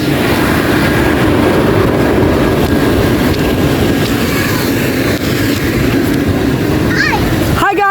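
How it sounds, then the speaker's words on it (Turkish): A train rolls past a children's park, a loud steady rumble filling the whole stretch close by, with a brief high squeal near the end. "Oo tren."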